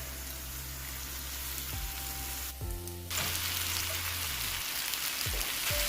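Beef hitting a hot pan alongside browning potatoes for beef stroganoff, giving a steady close sizzle with a brief dip and then a louder, fuller frying hiss.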